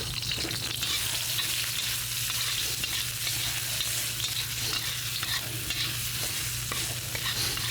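Minced ginger and garlic fry in a pan with a loud, steady sizzle and crackle and occasional scraping from stirring, close up and continuous, with no voices.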